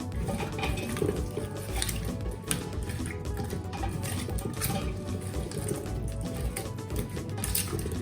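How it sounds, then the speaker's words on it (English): Potatoes tossed and mixed in a bowl with leftover lamb marinade, a steady wet squelching and scraping with clinks against the bowl, close and continuous with no talking. "And I'm going to give this a good mix."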